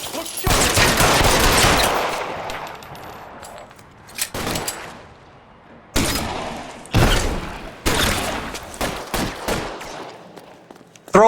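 Gunfire in the LA Noire video game opens with a long rattling burst of rapid shots, then single loud cracks and short volleys spaced a second or two apart, close and sharp, with no speech.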